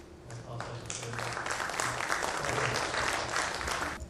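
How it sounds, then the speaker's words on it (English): Applause from a conference audience, a dense steady clapping that swells within the first half-second and holds strong for about four seconds before breaking off abruptly. "So if we just give them a quick round of applause"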